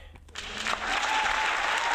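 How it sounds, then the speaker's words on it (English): A crowd claps steadily, a dense wash of applause rising after a brief quiet start and holding strong to the end. "Give yourselves a round of applause, okay?"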